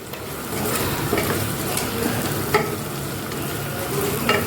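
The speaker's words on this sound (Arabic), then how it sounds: "عشان انا عايزه الفلفل يتلون معايا شويه، ياخد صدمه كده مع البصل ومع النهده ومع حته القلب دي او الكلوه" Peppers frying with onion and pieces of heart or kidney in a pan, giving a steady close sizzle with occasional stirring scrapes and clinks, with no talking.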